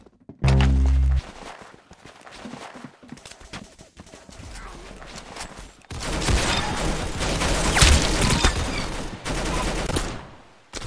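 Rapid gunfire from the Roblox shooter Arsenal, with bursts of shots, thuds and footsteps building into a loud, sustained barrage in the second half.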